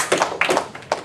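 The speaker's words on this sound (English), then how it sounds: "please give a round of applause to Mr." A few scattered claps from an audience at a student debate awards ceremony, brief and uneven, a handful of distinct hand strikes rather than full applause.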